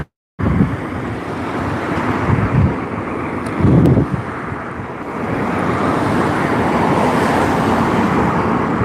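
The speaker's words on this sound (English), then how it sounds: "It is very, very windy" Strong wind at Southport Beach roars across the microphone in a loud, continuous rush with gusty swells, close and harsh, with no talking.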